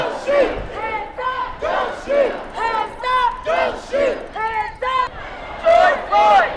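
Protest crowd in Alexandria, Virginia chanting in loud, rhythmic unison, with repeated shouted phrases rising and falling in regular bursts close by.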